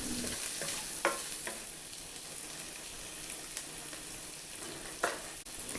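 Paneer pieces with a teaspoon of salt are stirred in a pan, giving a steady soft sizzle with occasional louder scrapes of the spoon at moderate volume, no voices.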